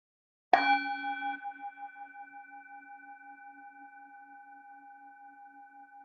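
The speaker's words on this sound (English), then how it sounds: "I send my heart along with the sound of the bell." A single bell struck once, ringing out with a bright attack and a long, slowly fading resonant hum that pulses gently as it decays.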